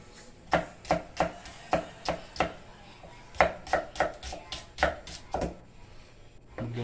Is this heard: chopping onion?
yes